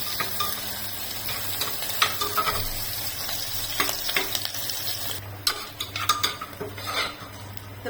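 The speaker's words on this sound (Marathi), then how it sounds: "कांदा छान असं गोल्डन मध्ये करून तळायचा" Onion frying in hot oil until golden, a steady close sizzle under irregular clinks and scrapes of a metal spoon against the pot, no talking.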